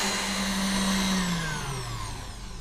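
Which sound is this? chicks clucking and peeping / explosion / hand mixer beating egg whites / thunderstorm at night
hand mixer beating egg whites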